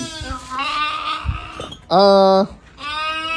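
Sheep bleat loudly at a village animal pen in Pakistan, one strong, sustained, wavering call standing out clearly over ongoing talk, with other livestock sounds and voices around it.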